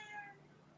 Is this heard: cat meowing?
yes